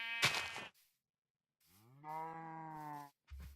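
A cow in the video game Minecraft moos twice, first a brief low call, then after a pause a longer, clear, drawn-out moo, alone with no talk.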